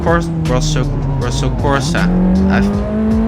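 A Ferrari F430 Scuderia in Rosso Corsa drives in the racing game Assetto Corsa, its engine a loud, steady drone with pitch rising through the clip under continuous talk.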